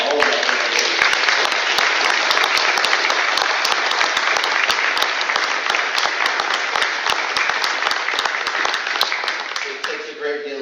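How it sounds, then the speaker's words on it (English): Sustained, dense applause from a large audience at a county commissioner candidate forum, loud and steady for about ten seconds before easing slightly at the end. "Let's get a round of applause for all of us."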